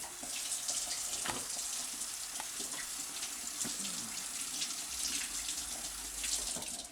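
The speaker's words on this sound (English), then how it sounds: "first thing today, we're going to wash our hands" A kitchen tap runs steadily while hands are washed under it. The water gives a constant broad rush that is close and even, with faint splashing changes and no voices.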